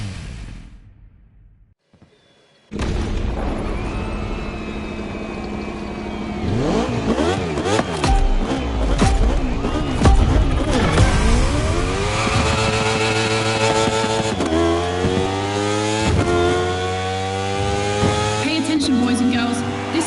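A racing car engine at a Red Bull time attack event revs hard after a quiet start, rising and falling through repeated loud upshifts and accelerations, close and continuous.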